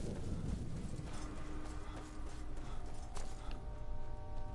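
Horse hooves clip-clop in the Skyrim video game, a steady rhythmic trot of hoof falls mixed with low ambient game rumble, moderately quiet with no talking.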